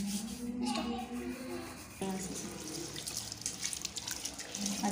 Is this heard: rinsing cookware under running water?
yes